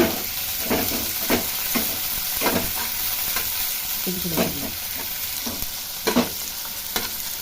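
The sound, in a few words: chopped onion being stirred and fried in a pan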